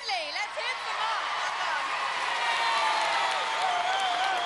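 A studio audience at a 1994 UK Gladiators heat claps and cheers, a broad sustained wash of applause beneath a voice speaking over it.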